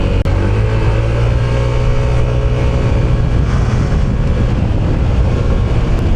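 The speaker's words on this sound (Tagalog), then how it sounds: "Rinig ko yung sipol para may supercharger no?" Honda ADV 160 scooter with a supercharger and a Daytona setup, riding in traffic, a loud continuous engine drone with a faint high supercharger whistle and wind buffeting the microphone, steady throughout.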